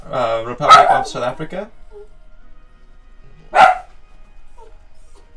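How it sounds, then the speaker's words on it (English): Dogs barking indoors in a rural home in South Africa, a couple of sharp yips and barks, one burst mixed with someone talking and another loud bark alone a few seconds later. "Sorry about the dogs in the background."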